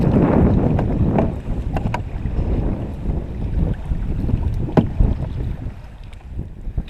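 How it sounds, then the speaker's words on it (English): Gusty wind buffets a solo canoe being paddled on a lake in Algonquin Provincial Park, a loud low rushing roar with a few soft knocks and splashes, no speech. "It was windy alright, but thankfully it was a tailwind."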